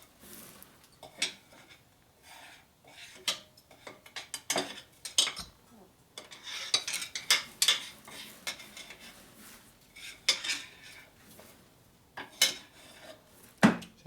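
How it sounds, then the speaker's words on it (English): Metal chips being scraped out of a machine with a Snap-on screwdriver during a 1961 Harley-Davidson XLCH Sportster rebuild, heard as a run of irregular, close clinking and scratchy scrapes with short pauses between bursts. "That's the only thing a good snap-on screw like this is good for, is scraping chips out of the machine."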